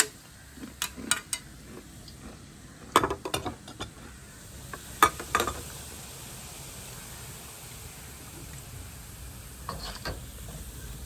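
Boondi batter drops sizzle softly in hot oil throughout, with a few sharp scraping and tapping clicks of a utensil against the pan, mostly early on.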